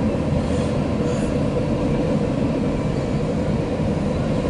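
A CSX freight train of empty pipeline cars led by SD70M-2 and SD75I locomotives rumbles past nearby, a dense, steady roar of rolling wagons that stays loud and even throughout.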